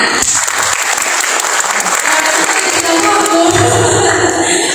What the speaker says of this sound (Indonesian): silent C tepuk tangan